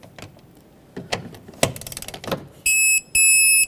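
A wrench torquing the master cylinder mounting nut on a 2006–2010 Hyundai Sonata to 9 ft-lb, with a series of close, uneven ratcheting clicks followed by two sustained high electronic beeps.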